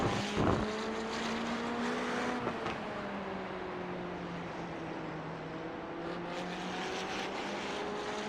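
Race car in a sim racing game on the Circuit de Barcelona road course, engine note rising steadily under hard throttle, a loud sustained whine with tonal pitch climbing and sliding, without voices.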